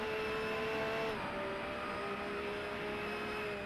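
Race car engines closing in from behind during a GT Club race in the Race Pro video game, a continuous droning engine roar with a pitch that dips partway through, steady and moderately loud.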